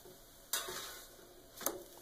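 Crepe cooking in a pan on the stove, faint steady sizzle with two sharp scraping clatters of a spatula as it is flipped, quiet and close with no talking.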